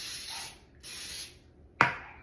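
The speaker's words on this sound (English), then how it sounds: "Let me spray this so it doesn't stick." Cooking spray is aimed at a baking pan for lemon brownies: two loud, sustained hissing bursts separated by a pause, then a sharp click as the can is set down.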